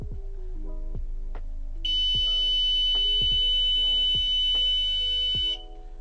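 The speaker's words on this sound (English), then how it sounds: "it will continue giving this alarm" A loud, shrill electronic water leak sensor alarm in a smart home sounds continuously for several seconds, layered over scattered lower beeps and tones, then cuts off abruptly.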